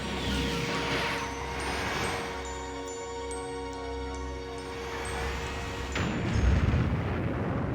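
In the Star Wars Trilogy Arcade game, the Death Star blows up with a long rumbling, roaring explosion laced with crackling booms and a steady electronic hum, ending in a heavier low blast.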